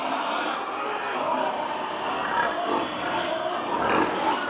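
A boar pig on a Batangas farm grunts and snorts in a steady, busy stream, close and fairly loud, amid general pen noise with no clear talk.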